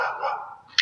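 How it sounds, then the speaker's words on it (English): A single dog bark, fairly close and loud, aimed at a ground squirrel, breaking out sharply at the end after a stretch of steady midrange noise. "I think she's barking at a ground squirrel."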